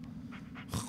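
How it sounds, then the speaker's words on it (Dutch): Dog panting in the Blair Witch horror video game, quick rhythmic breaths close by, growing louder and rougher toward the end of the brief moment. "Een klote hond weer."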